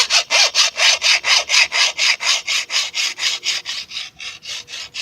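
A hand file is drawn over a lawnmower blade in loud, steady rasping strokes, around four per second, each a harsh scraping sweep, continuing without pause and easing slightly toward the end.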